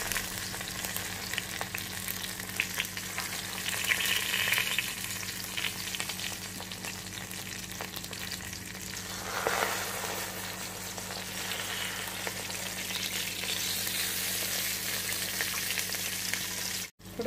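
Taro leaf and potatoes frying in hot oil in a pan, a steady close sizzle and crackle running unbroken throughout with no voices.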